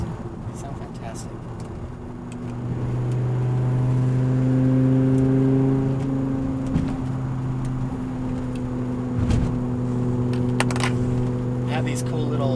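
BMW M5 engine running with its exhaust valves opened by wireless remote, a steady low droning rumble that swells slightly in level after a couple of seconds and holds a sustained revving tone close by, with faint rustles over it.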